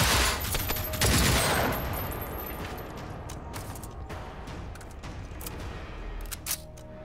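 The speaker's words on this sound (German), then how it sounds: "Ich habe gerade die letzten 11 Schuss für unser Automatgewehr 4 verschossen" Rapid automatic rifle fire in the Generation Zero shooter, a dense burst of shots up front that thins into scattered mechanical clicks and a few sharp reports, loud and alone.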